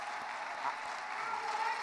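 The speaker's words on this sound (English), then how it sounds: "please, round of applause." Audience applause at a school community convocation, a steady wash of clapping from a crowd filling the short stretch at even loudness with no talk over it.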